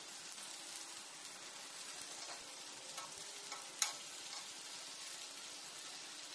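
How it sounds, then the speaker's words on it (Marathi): Coated fish fries in a pan with crushed garlic as the second side cooks, a quiet, continuous oily sizzle with faint crackles and one brief pop, no one speaking. "आता दुसरी साईड सुद्धा मी 5 मिनटं फ्राय होऊ देते."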